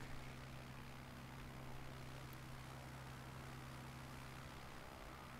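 Propeller plane engine in Microsoft Flight Simulator 2021 near Bartonsville, Pennsylvania, a faint steady cockpit drone with a constant low hum under broadband airflow hiss, no talking.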